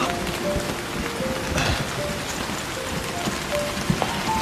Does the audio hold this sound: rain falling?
yes